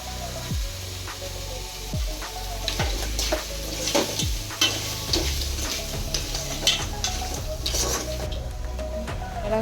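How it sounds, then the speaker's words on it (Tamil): Chili powder frying and being stirred in a pan for crab gravy, with a steady close sizzle broken by repeated scraping strokes of a spoon against the pan. "இது கூட மிளகாத்தூள் ஆட் பண்ணி வதக்கிக்கிறேன்"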